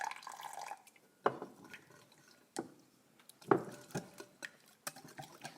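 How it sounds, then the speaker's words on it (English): Warm water trickles in small drips and splashes into a vegan sauce for a chickpea and rice noodle bowl, quiet and close, with a few soft stirring clinks in between. "I am going to add just a little bit of water"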